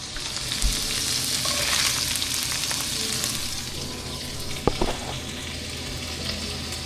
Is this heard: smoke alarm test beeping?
no